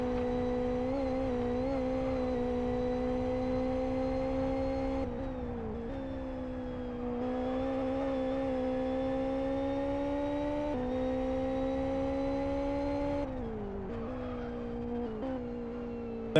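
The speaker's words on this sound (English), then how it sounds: "Quite a train of cars just going through turn number 3 now." Several racing cars in Live for Speed drone through a corner in a close line, engines holding high revs, dipping as they brake and downshift, then climbing again on exit.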